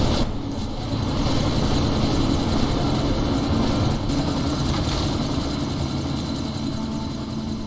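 In the video game Deus Ex Mankind Divided, a helicopter engine drones steadily with a loud, constant rotor thrum and engine roar that holds throughout without pause, and no one talks over it.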